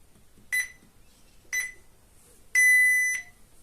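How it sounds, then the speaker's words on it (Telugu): A timer gives three clear electronic beeps at the start of a breakfast eating challenge: two short, evenly spaced tones, then a longer held one, close by in a quiet room. "బీప్ సౌండ్ వచ్చినాక స్టార్ట్ చేయాలి."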